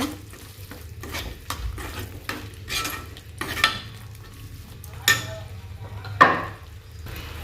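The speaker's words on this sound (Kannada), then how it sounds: "ಅದ್ರ ಜೊತೆ ಮಿಕ್ಸ್ ಆದರೆ ಇದನ್ನು ಕೈಯಾಡಿಸ್ಕೊಳ್ಳೋಣ" Spoon stirring a sizzling tomato and chili powder mixture in a pan, repeated scraping strokes with a few sharper clinks against the metal over a steady frying hiss, close and without talking.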